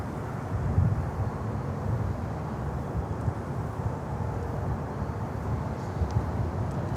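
Global X Airbus A320 airliner at Miami Airport, heard as a steady broad jet engine roar from some distance, continuous and rumbling with no talk over it.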